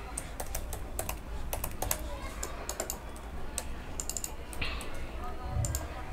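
Fingers type on a computer keyboard while writing HTML, with bursts of close, crisp key clicks coming in uneven runs and short pauses, some sharper taps among them.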